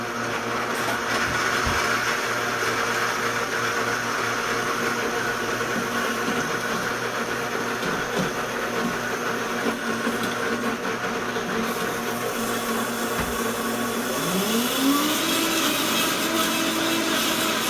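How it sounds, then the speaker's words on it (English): A blender whirs steadily while mixing pesto, a continuous mid-level motor drone with a rising pitch sweep near the end. "we can start this on the blender"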